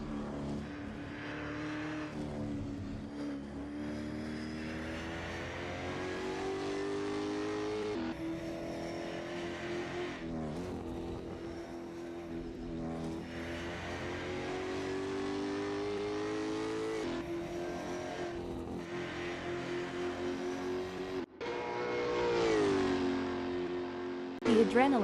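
Race car engines in a sim racing game drone and rev steadily through a qualifying lap, the note rising and falling with gear changes and running continuously under a commentator's voice, with a sharp louder surge near the end.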